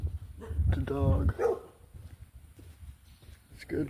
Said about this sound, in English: It's good they got the dogs going.